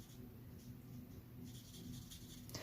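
A marker scratches quickly over a paper card during coloring, light rapid strokes close by and faint, with a low steady background hum and no voice.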